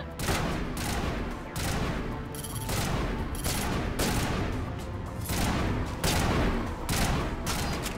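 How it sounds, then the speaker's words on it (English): Gunfire in the sci-fi shooter Mass Effect comes in dense, loud rapid bursts, several volleys separated by brief gaps, close and dominant throughout. "Because they're shooting it."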